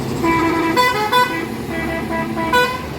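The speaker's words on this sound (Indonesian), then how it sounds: "bus dari Medan tujuan Pulau Jawa seperti POLS ini cukup banyak nih melewati daerah Padang Panjang" An intercity bus from Medan bound for Java passes in Padang Panjang, sounding its loud multi-tone horn in several honks over rumbling road traffic.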